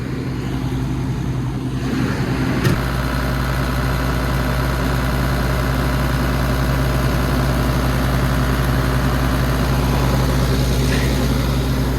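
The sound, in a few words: digger diesel engine idling at 1200 RPM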